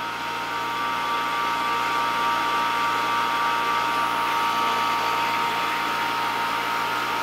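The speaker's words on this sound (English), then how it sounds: "Let's let the pump have another gulp." A vacuum pump drawing down a xenon discharge tube drones in a steady, loud, whining hum with a constant tone, unbroken from start to finish.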